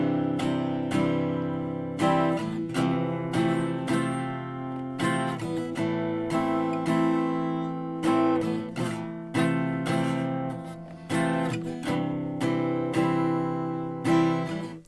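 Acoustic guitar strummed in a steady down-and-up pattern through the chord progression of a song, chords changing every few beats, played close with no voices.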